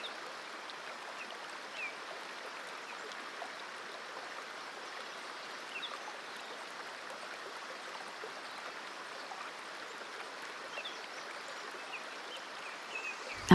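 Shower water running steadily down a drain, a continuous, even hiss of falling and trickling water, close by with no voices, ending in a faint knock.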